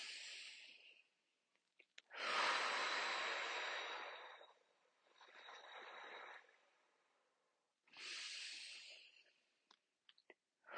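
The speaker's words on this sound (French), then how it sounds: "Je t'invite à respirer avec moi." Slow, deep breaths during a guided meditation: long airy inhales and exhales, close and quiet, drawn out over a few seconds each with pauses between.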